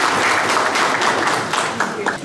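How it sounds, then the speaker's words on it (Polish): Sustained applause from an audience at an anniversary ceremony for a municipal water utility in Wyszków, dense steady clapping throughout with some voices mixed in. "Proszę o klaski na ręce Pani Prezes i Pana Burmistrza."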